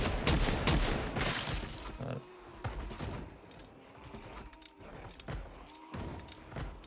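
Gunfire in the zombie survival video game Project Zomboid: a dense burst of sharp, loud shots in the first two seconds, followed by scattered, fainter single shots over a background rumble.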